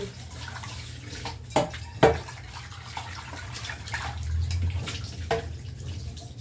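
Water runs quietly from a tap during washing up, with a few sharp clinks and splashes of dishes scattered over the soft, steady flow.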